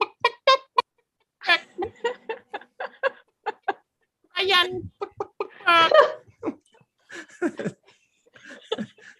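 A voice imitates a chicken, giving a string of short clucking bursts between stretches of casual talk, with a few louder drawn-out squawks in the middle.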